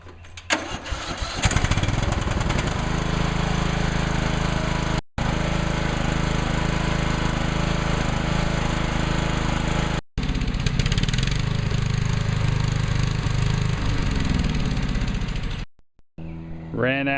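An old Craftsman LT1000 lawn tractor engine cranks, catches and roars steadily at close range for a long stretch, with a couple of brief cuts, then sputters and dies out of gas.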